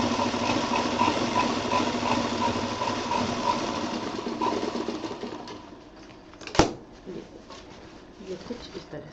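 Sewing machine stitching the final seam of a homemade picnic bag, a fast steady whirring hum for several seconds that stops, followed by a sharp knock and quieter handling.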